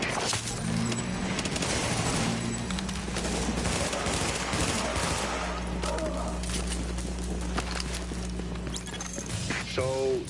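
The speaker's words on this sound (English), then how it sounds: "So, that shooting, that was you" Gunfire in the video game The Division, with dense, continuous bursts of shooting and crashing impacts over a steady low engine-like drone, fairly loud throughout.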